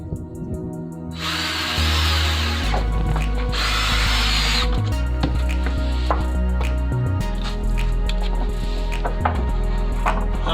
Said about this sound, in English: we're going to screw 1 screw here, 1 there, take 2 more woods, put them on, and do 1 screw